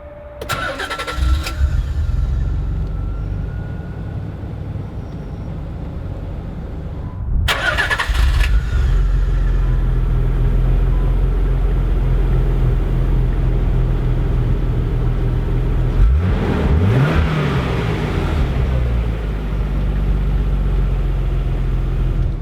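A 1991 Nissan 300ZX Twin Turbo with a five-speed manual cranks briefly, catches on a second attempt and settles into a steady, close idle that runs on with a slight rise in revs partway through.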